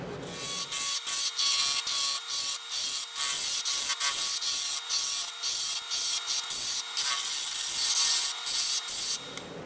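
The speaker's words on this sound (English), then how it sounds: "starting with a roughing gouge, we're going to turn these to round." Roughing gouge cutting pen blanks to round on a wood lathe, a loud continuous scraping hiss broken into rapid regular pulses as the square corners strike the tool, close up with no voices.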